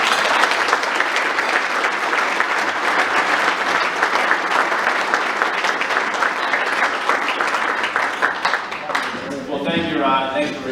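A conference audience in Bemidji applauds to welcome a commissioner, steady full-room clapping that fades near the end as a voice begins to speak.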